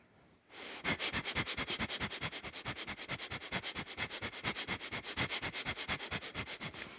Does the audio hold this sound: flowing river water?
no